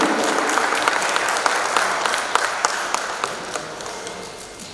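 Audience applause rings out at a stock exchange listing ceremony for PT Hensel Davest Indonesia, a steady dense clapping from a crowd with a few sharper nearby claps standing out, slowly tapering toward the end.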